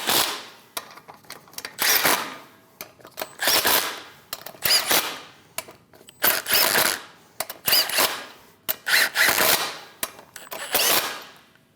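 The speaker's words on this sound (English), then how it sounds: "Snug the lug nuts down." An impact gun snugs down lug nuts on a Chevrolet Express 2500 front wheel, delivering about nine loud, close bursts of hammering rattle, each a second or so long, separated by short quiet gaps.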